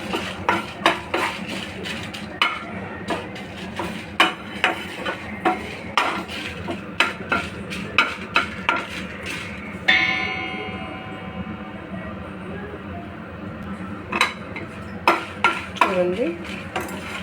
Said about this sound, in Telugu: నెక్స్ట్ మనం ఎండుమిర్చి వేయించుకోవాలి.